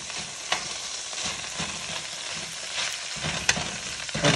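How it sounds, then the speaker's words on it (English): Food sizzles and crackles steadily in a hot pan, with occasional scraping stirs and clicks of a utensil, close up and without talk. "You hear that sizzling? That's good."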